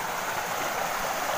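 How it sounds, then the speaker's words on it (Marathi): A large natural mountain stream runs during the Konkan monsoon, a steady, dense rush of flowing water, moderately close and unbroken, with no voices over it. "नैसर्गिक झरा बघा किती मोठा आहे."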